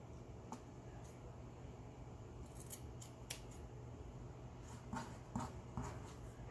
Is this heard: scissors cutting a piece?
yes